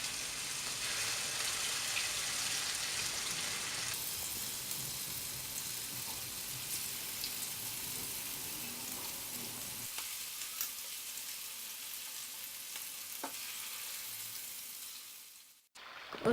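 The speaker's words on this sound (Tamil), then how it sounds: "எண்ணெய் சூடானதும் இங்கே சிக்கன் பீசஸ் அதில் போடுறேன்." Chicken pieces shallow-frying in hot oil for chilli chicken, a steady bright sizzle and crackle throughout that thins out and drops away near the end.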